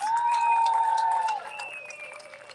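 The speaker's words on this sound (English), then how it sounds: "The Miami Police Department, let's give them a big round of applause" A crowd at a Miami street protest against Russia's war applauds the Miami Police Department, with a loud sustained whistle ringing over the clapping before it fades to scattered claps and crowd noise.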